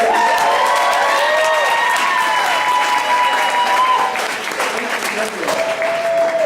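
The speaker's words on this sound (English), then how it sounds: "May we get a round of applause for Mr. Benson here?" Audience applause at a masquerade event, loud and continuous for several seconds, with crowd noise and an announcer's voice carrying over it.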